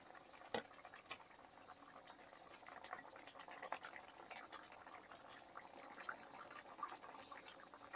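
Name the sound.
fish kalia curry gravy boiling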